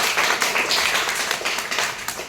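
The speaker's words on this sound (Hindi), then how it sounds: "जोरदार ताली बजाइए।" An audience at a business seminar claps steadily and loudly, a dense wash of many hands with no voices over it.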